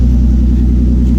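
A 1995 pearl white Lexus SC300 with a 2JZ-GE engine, running with no muffler and only the stock resonators, gives a brief, loud, deep exhaust rumble close by.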